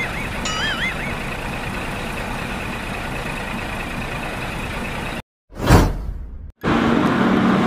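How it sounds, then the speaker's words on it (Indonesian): An underground mini dump truck operates with a loud continuous diesel rumble and a warbling warning tone near the start, followed by a sharp cut and a brief whooshing rush before the engine noise returns. "Underground mini truk."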